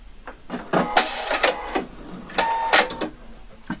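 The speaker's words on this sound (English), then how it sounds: "So I'll just sew as close as possible to this triangle just to secure this spot here." A sewing machine stitches a double welt pocket in short, rapid bursts, starting and stopping several times at close range.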